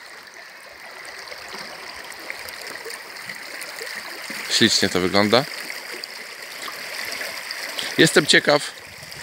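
A swift mountain stream in Norway rushes steadily past close by, a constant broad watery roar, with someone speaking briefly over it.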